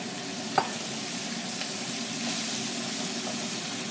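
Spinach drops into garlic frying in a pan, setting off a soft, steady sizzle with one sharp clack near the start and faint stirring, close and quiet with no talk.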